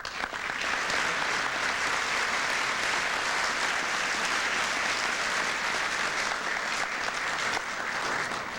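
Sustained, dense applause from an indoor audience welcoming State Representative Terry Keel to the stage, loud and steady throughout with no talking over it.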